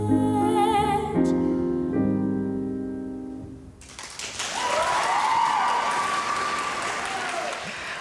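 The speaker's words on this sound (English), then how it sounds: "I just wanted you to hear a little bit of the applause there for class winner Parker Kissack." Sustained audience applause for a class winner at a music competition follows a sung musical phrase, swelling in after the music fades and continuing as a dense, steady wash of clapping with a faint tone running through it.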